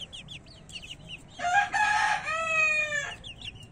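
A rooster crows loudly and close, one long drawn-out call, while small birds chirp faintly before and after.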